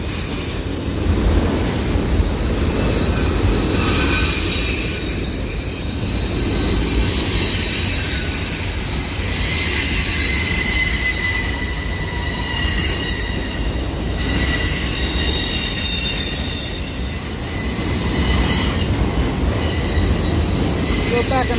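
Railroad cars rolling through the Hoosac Tunnel, loud and close, with continuous screeching wheel squeal and rumbling wheels echoing off the tunnel walls throughout.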